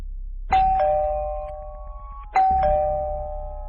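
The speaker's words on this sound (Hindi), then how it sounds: "घर की डोरबेल बजाता है" A doorbell chimes twice, each a clear two-tone ding-dong that rings out and slowly fades in a quiet room.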